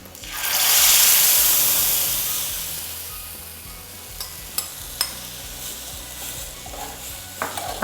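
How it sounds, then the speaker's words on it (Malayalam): Momo filling mixed with chutney in a pan opens with a loud hissing burst of sizzle that fades to a softer fry, followed by scattered clacks of a spoon stirring against the pan, close by and with no voices. "ശേഷം നന്നായിട്ട് ഇളക്കുക."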